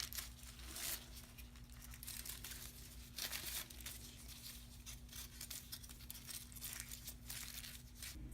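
Aluminium foil crinkles and rustles in bursts while hair colour is brushed on at a salon, with faint, close, irregular crackling over a low steady hum.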